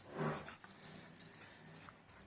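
A dog whimpers softly while its nails are being clipped indoors, a short high whine near the start followed by faint snuffles and small movements.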